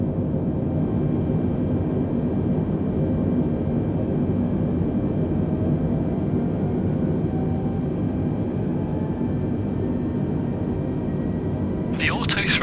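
Jetliner engines in Microsoft Flight Simulator give a constant, even cabin drone and rumble that continues unbroken throughout, with a brief higher chirp at the end.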